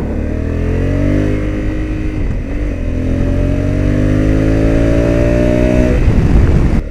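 A 2021 Honda Africa Twin motorcycle on a race track, its engine loud and close as it revs and pulls through rising gears, the pitch climbing, dipping briefly at a shift, then climbing again.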